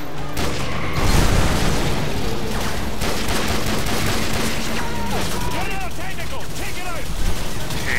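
Bursts of gunfire ring out at a truck gunner in Call of Duty Modern Warfare 2, with booming shots and rattling automatic fire amid continuous battle noise, plus distant whistling effects and talk underneath.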